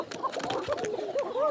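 Several Koka pigeons coo and call from inside a cardboard carton, a close, busy cluster of short overlapping coos with a scuffling, restless background.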